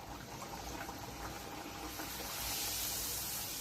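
Poori frying in hot oil gives a faint, steady sizzle and soft bubbling hiss that grows a little louder and brighter toward the end.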